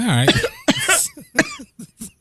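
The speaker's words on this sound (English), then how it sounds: "Got a bad cough" Several harsh, rough coughs in quick succession, close and loud, with raspy bursts separated by short gasps.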